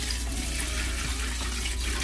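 Warm water pours steadily from a tap into a Stokke Flexi Bath X-Large, a constant splashing hiss over a low hum, moderately close and uninterrupted, with no speech.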